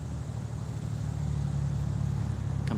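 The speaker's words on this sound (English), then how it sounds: "Comes a loud ass truck." Low, steady engine rumble of a loud truck passing outdoors near a pond, swelling slightly as it approaches, with no talk over it.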